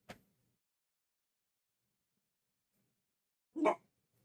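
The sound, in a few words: dogs barking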